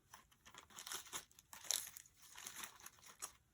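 Paper scraps crinkle and rustle as small pieces are handled and sorted for a mini junk journal, a quiet, near run of crumpling bursts with a few sharper crackles.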